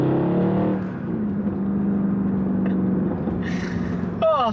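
A Mercedes C63 AMG engine hums along steadily at about 3,000 RPM, sounding like an in-cabin drone, and a brief rising whine comes near the end.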